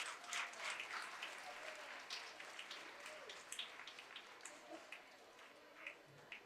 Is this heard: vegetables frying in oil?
no